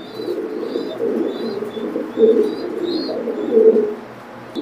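Pigeons at a bird sale, several soft low coos repeating in a slow rhythm, close and clear with faint higher chirps above and no voices.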